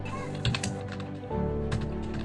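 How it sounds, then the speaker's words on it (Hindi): Rapid, steady typing clatters on a Prodot computer keyboard close by, keys clicking in a quick continuous stream with no one speaking. "ये मोबाइल मैं यहाँ रख देता हूँ अभी और टाइपिंग मैं स्टार्ट कर देता हूँ"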